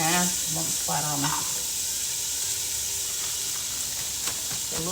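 Julienne-cut carrots hiss and sizzle steadily in a hot pan, a constant close frying noise under a person talking at the start and end.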